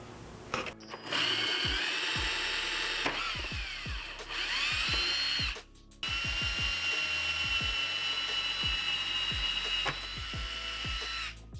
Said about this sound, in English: This hole I'm going to drill 20mm away from this push pin hole